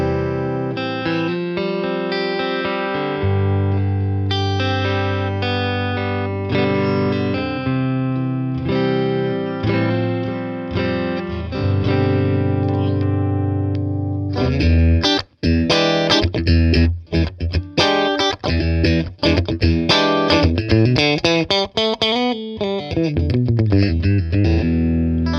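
Electric guitar played through the clean channel of a BOSS Nextone Stage amp, miked with a Shure SM7B, first sustained chords, then busier, choppier picking that grows louder and brighter, with a pitch-bending run near the end.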